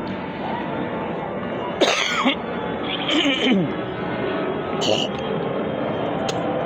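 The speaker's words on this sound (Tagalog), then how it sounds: "Sinsya na sa ubo." Three short, sharp coughs from a person standing close, spaced apart over a steady background hum.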